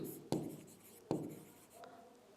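Chalk or marker strokes on a board during a Sanskrit grammar lesson: two sharp, close taps each trailing off into a brief scrape, followed by a fainter stroke.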